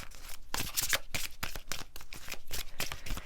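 Tarot energy cards are shuffled and drawn by hand, a close, soft run of riffling and sliding bursts in quick, uneven rhythm, with no voices.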